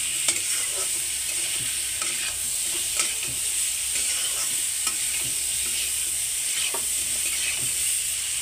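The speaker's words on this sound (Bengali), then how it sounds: "এবার একটু সুন্দর করে ভেজে নেব, সবজিগুলো ভালো করে কষিয়ে নেব একটু।" Vegetables with cumin powder stir-fry in a pan with a steady, close sizzle, broken by the scrape and clatter of a spatula stirring at irregular intervals.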